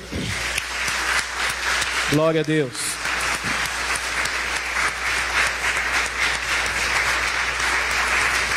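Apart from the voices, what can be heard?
church congregation applauding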